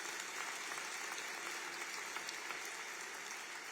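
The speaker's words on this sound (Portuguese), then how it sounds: "vamos saudar a advocacia brasileira com uma efusiva salva de palmas" An audience at a lawyers' bar council inauguration ceremony breaks into sustained, even applause, a continuous wall of clapping from many hands with no break or speech.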